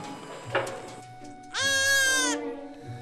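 Goats on a high-altitude goat farm bleat loudly, one long wavering cry near the microphone after a shorter call, over quiet farmyard background.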